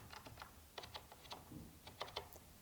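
Scattered key presses on a computer keyboard, plus and minus keys tapped in short irregular clusters, faint and close with a quiet hiss behind.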